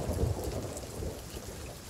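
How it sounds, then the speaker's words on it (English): Thunder from a lightning strike during a storm at sea in the pirate video game Sea of Thieves: a deep, sustained rumble over steady rain, with no voices. "I literally think it struck lightning up here."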